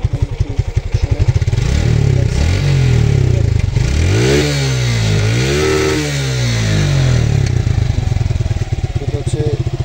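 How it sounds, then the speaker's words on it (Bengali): A Suzuki Gixxer SF motorcycle engine running close by, a steady thumping idle that rises and falls through a couple of revs in the middle, with a voice heard over it. "এখন যদি গাড়ির সাউন্ডটা আমি আপনাদেরকে একটু শোনাই"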